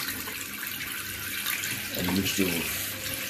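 Hot water running from a tap into a sink, a steady broadband rush of flowing water with a voice talking briefly over it.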